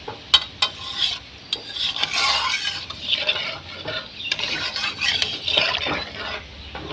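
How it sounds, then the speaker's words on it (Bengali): A spoon stirs hilsa fish curry with shola kochu and potato in a pot just after water is added, giving close, uneven scraping and sloshing strokes with short gaps between them. "জল দেওয়ার পরে একটু নেড়ে চেড়ে দিচ্ছি।"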